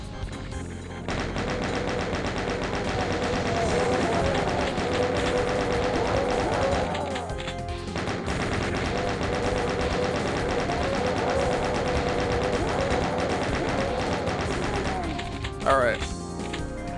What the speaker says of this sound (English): Chain gunners